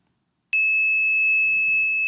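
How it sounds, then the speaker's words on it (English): Steady 2600 Hz telephone trunk line idle tone, a single pure loud whistle that starts abruptly after a brief silence and holds unchanged to the end, alone with no talk. "And 2600 hertz sounds like this."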